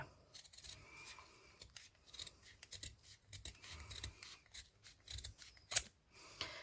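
Scissors snip through a 3-inch ribbon while a hair bow is being made, giving quiet, irregular cuts and rasping blade noises close by, with one sharper snip near the end.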